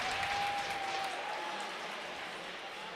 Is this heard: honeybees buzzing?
no